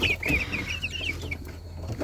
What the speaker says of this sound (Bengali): এখানে আমার মিশরীয় ফাওমি টাইগার এবং এই যে তিতির মুরগিগুলো আছে